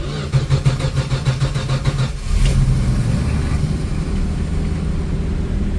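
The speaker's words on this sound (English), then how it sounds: "So we're gonna see how well she starts." An old Mopar car with a carburetor cranks with a rhythmic starter whir for about two seconds, then catches and settles into a steady, loud idle close by.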